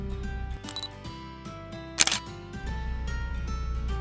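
A DSLR camera's shutter fires once while photographing lotus flowers, a single sharp mechanical click standing out near, with steady low background hum around it.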